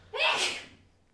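A single sudden sneeze, sharp and breathy, close by, bursting out and fading within about a second.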